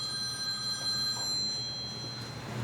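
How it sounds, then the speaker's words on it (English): A telephone rings nearby with a steady electronic trill that holds throughout, heard alone in a quiet indoor room. "Sorry about that, got a phone call."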